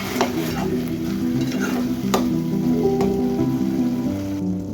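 A spoon stirs yogurt masala into potato and green pea pulao in a pot, giving soft continuous scraping and a light sizzle with occasional clinks, close and steady.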